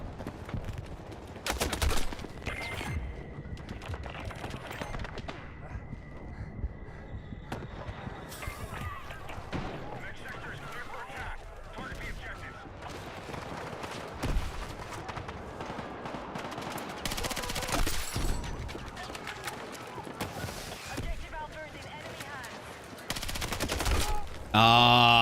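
Rapid automatic gunfire and scattered single shots crackle in loud bursts during a Battlefield 6 match, with a player talking over the fighting throughout.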